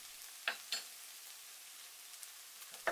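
Ravioli filling is stirred briefly in a pan, heard as a few faint, quiet scraping clicks of a utensil against the pan over near silence.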